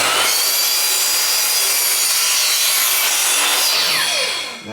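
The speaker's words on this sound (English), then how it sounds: "we want to set the saw, put it on a 45-degree angle, and we're going to mitre it" A saw cuts a 45-degree mitre through wood wainscoting panel, a steady loud rasping rip running nearly five seconds without pause before trailing off at the end.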